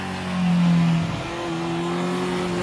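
Engine of a Honda CB650R motorcycle, a 2023 Hornet comparison bike, revs up with a rising, loud roar that peaks briefly, then settles into a steady, droning idle-like hum. No voices are present.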